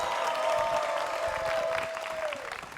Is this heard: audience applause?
yes